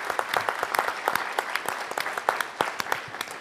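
Audience applause for Elihu at a community lecture series, a steady patter of many hands clapping close by, with sharp individual claps standing out and no voices over it.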